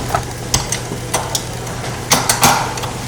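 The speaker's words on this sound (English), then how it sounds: "We're going to use a machine to mash it for us." A KitchenAid stand mixer mashes potatoes in its bowl, with a steady low hum under irregular clanks and scraping knocks of the beater against metal, close and fairly loud.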